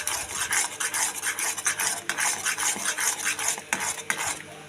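Mango jelly cooks down in a pan as a utensil stirs and scrapes it in quick, uneven strokes, close up and moderately loud, with no talking.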